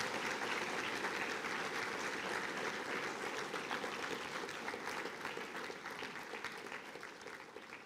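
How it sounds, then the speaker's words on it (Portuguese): A church congregation gives a long, loud, dense round of applause for Jesus, steady throughout and tapering slightly toward the end. "dê um aplauso bem forte ao Senhor Jesus"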